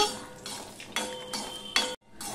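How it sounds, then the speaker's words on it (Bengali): Bori lentil dumplings frying in a pan for a vegetarian drumstick recipe, with a few bursts of metal spatula scraping and clinking over a low sizzle and a brief break near the end. "এবার আমি বড়িটা লাল লাল করে ভেজে নেব"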